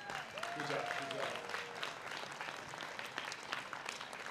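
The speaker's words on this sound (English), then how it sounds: "Would you give them a round of applause?" An outdoor crowd at Tacoma's Welcome Back celebration gives essential workers a round of applause, a soft scattered clapping with some voices and a brief tonal sound early on, fairly distant.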